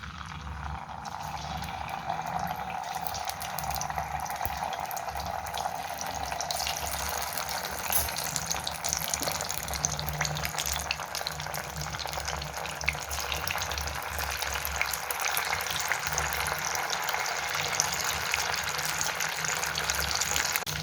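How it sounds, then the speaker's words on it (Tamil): Paneer pieces frying in hot oil in a kadai, a steady loud sizzle and crackle that holds evenly throughout with no talking. "எண்ணெய் ஹீட் ஆகிடுச்சு. இப்போ பன்னீர் போட்டுக்கலாம்."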